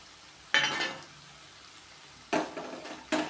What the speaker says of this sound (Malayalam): ഇതൊന്ന് ഇളക്കി യോജിപ്പിക്കാം